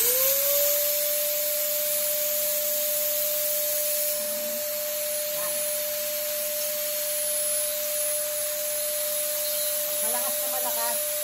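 A Mini Turbo sanitation fogger sprays at full output, a loud steady hiss with a constant high whine running unbroken throughout, close and dominant.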